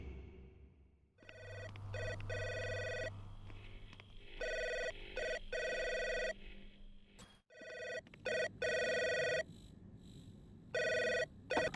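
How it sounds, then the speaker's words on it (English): An intercom in the video game Three Minutes To Eight rings in repeated electronic bursts, loud and close, with short gaps between rings over a low background hum. "That damn intercom is still ringing."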